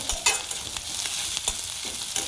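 Onion frying on a high flame with curry leaves for a curry leaf and tomato chutney: a loud, dense sizzle broken by repeated scraping stirs, close up with no talking.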